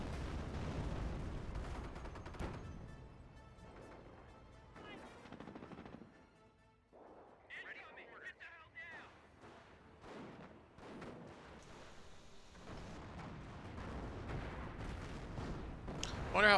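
Artillery barrage in a video game, dull booming impacts and crackling fire spread through a long stretch, mixed under steady talking.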